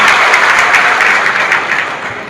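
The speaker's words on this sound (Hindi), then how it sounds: "देखो जोरदार ताली के साथ पहले प्रस्ताव को पारित किया जाए।" Loud, dense applause from a crowd at a JLKM party annual convention in Chas, Bokaro, a steady wash of clapping that fades slightly at the end, with no talk over it.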